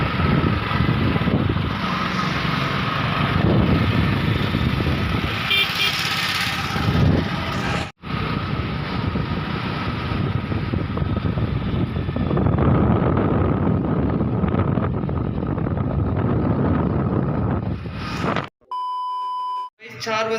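Motorbike riding through city traffic near Noida, with steady engine drone and heavy wind buffeting the microphone, a loud close hum that cuts out briefly midway, then a few beeps near the end; a voice talks over it.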